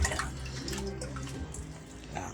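Water splashes and trickles as it is fetched and poured for pets, a steady close liquid wash with small drips.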